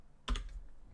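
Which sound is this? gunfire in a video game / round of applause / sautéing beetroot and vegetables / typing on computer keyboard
typing on computer keyboard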